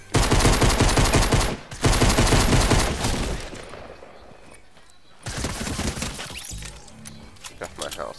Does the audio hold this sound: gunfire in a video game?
yes